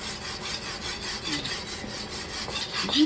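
Korean sickle (Joseon nat) blade for trimming small branches being sharpened against a stone, giving continuous rasping, rubbing strokes at close range with no talk.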